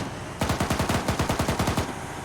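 Automatic gunfire in Arma 3: a rapid burst of roughly fifteen evenly spaced shots, loud and close, running for about a second and a half with no talk.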